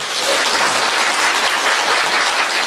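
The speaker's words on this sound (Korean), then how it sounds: "박수 한번 쳐주십시오. 박수 한번 쳐보세요." A crowd at a political campaign rally claps loudly and steadily, a dense, even wash of applause with no speech over it.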